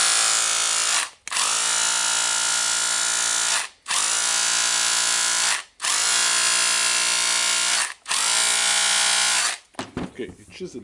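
Repaired Makita DHR202 rotary hammer chiseling, loud and close, in five long sustained bursts separated by brief pauses, each start and stop clearly marked, with scattered clatter at the end.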